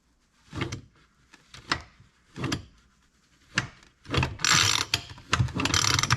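A Poulan Super 25 chainsaw engine is pulled over by hand with a piston stop screwed into the plug hole, giving a series of ratcheting, grinding mechanical pulls. The pulls are close and irregular and grow longer and louder toward the end.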